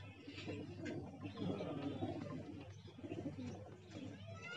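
Tonk pigeons in a Bhopal loft give soft, low, rolling coos that repeat in a continuous murmur, moderately close, with faint background hum and no talking.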